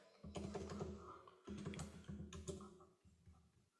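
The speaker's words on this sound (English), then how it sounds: "let's just type for quality gate here." Quick, quiet bursts of typing on a computer keyboard, three short runs of close key clicks separated by brief pauses.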